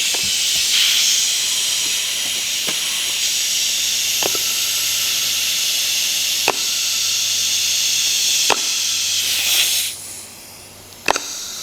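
Steady loud hiss of compressed air running throughout a leak check on a dirt drag race vehicle's clutch, with a few sharp clicks and knocks, and a brief louder burst of hissing near the end.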